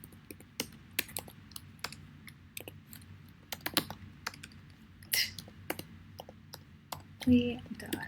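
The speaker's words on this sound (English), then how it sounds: "I'm just typing this" Typing on a computer keyboard while writing an email: scattered quiet key clicks and taps at an uneven pace, fairly close, with short pauses between bursts.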